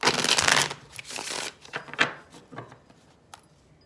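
Cards are shuffled close by, a quick riffling burst followed by several softer flicks and taps of the deck.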